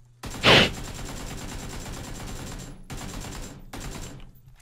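Loud burst of gunfire in the video game PUBG, a sharp blast near the start followed by a sustained rattling mechanical wash that cuts out briefly twice before fading.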